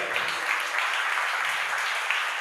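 An audience at a church meeting applauds the youth who performed a skit, with a dense, even clapping from a crowd that holds steady and fairly loud for the whole stretch.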